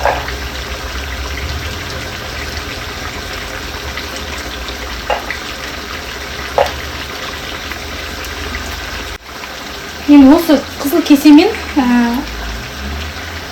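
Water pours steadily into a pot for cooking plov with a continuous gushing rush and a few faint clinks, then a person starts talking over it near the end.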